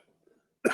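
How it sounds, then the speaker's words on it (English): A single sharp cough bursts out near the end after near silence, close and fairly loud. "He's coughing."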